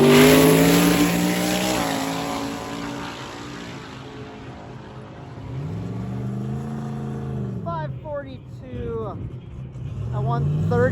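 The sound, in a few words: drag race cars launching down the track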